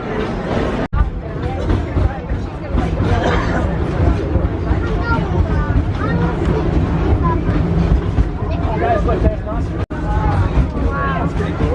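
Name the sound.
Animal Kingdom train to Rafiki's Planet Watch arriving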